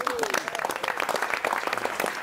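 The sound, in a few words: audience applause at a press conference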